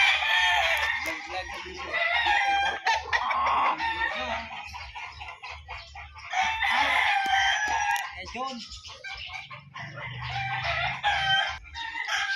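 Roosters crow repeatedly, loud and close, over a steady background of clucking chickens at a gamefowl farm and a low hum, with occasional brief voices.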